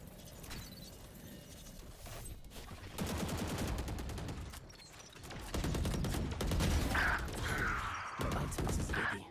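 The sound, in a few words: gunfire exchange in the video game Valorant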